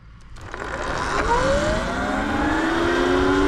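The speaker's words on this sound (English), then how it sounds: "Sport mode, full throttle." A stock Surron Light Bee X electric dirt bike in sport mode surges from rest at full throttle, a near electric motor whine swelling quickly and climbing steadily in pitch with wind rush building underneath.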